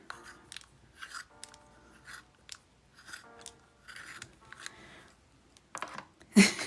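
A colored pencil being sharpened by hand gives a series of short, rhythmic scraping strokes up close, about a dozen bursts with brief pauses between, ending in a louder clatter.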